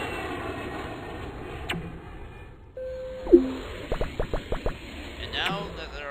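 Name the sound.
airplane in video game Now Boarding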